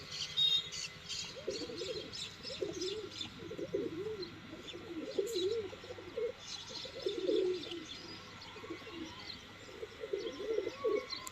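Teddy golden slaty pigeons coo in soft repeated phrases close by, a steady rhythm of low throaty calls with faint chirps in the background.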